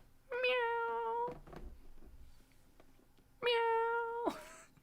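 A man imitates a cat with two drawn-out, nasal meows separated by a pause, close and clear over a quiet room with a faint hum.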